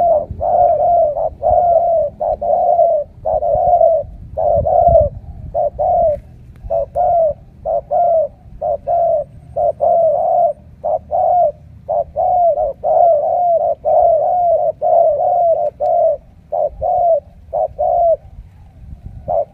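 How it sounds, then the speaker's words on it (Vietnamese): A newly caught male dove being trained cooes loudly and close, repeating short, steady coo phrases in a regular rhythm for about twenty seconds with no talking. "Đây là con đồng siêu rù."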